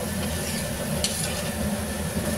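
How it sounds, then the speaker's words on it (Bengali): Spices with turmeric, chilli powder, sugar and salt sizzle in a pan while being stirred, a close continuous hiss with a brief scrape partway through. "ভালো করে আমি নাড়ব।"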